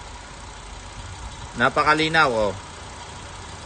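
A 2010 Honda car engine with an overheating problem idles with a steady, low hum. Someone speaks briefly over it midway.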